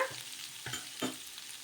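Small cut onion pieces fry in a little oil, giving a soft steady sizzle with a few gentle stirring scrapes, faint and close, without any talk.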